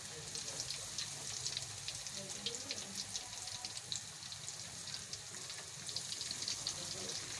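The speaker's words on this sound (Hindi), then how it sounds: "अब हम इनको फ्राई कर लेते हैं।" Potato and eggplant tikki frying in ghee, a faint, steady sizzle with fine crackling pops throughout.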